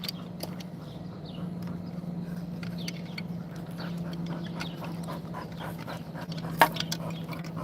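A dog pants steadily outdoors in the shade beside a truck under repair, a soft continuous breathing texture with a low steady hum beneath it and one brief sharper sound near the end.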